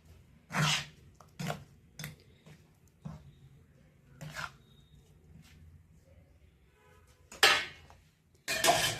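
Chicken chutney stirred in a pan with a little heated oil, a quiet kitchen with intermittent scraping and clanking bursts of the utensil against the pan, separated by pauses.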